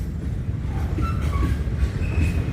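A long container freight train rolls past at around 2 a.m. with a steady low rumble and faint squeals and clacks from the wheels on the rails.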